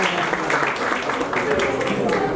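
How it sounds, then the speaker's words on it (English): Audience applause breaks out for young children at a play school's annual cultural fest in Noida, a steady wash of clapping under the voice of a host talking over it. "Please have a big round of applause for these amazing looking kids"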